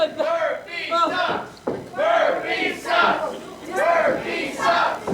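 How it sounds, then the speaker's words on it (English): A wrestling event crowd shouts and chants in loud repeated swells, voices rising and falling in waves that fill the hall close around. "this UpRyse crowd letting Officer Dan know what they think of him"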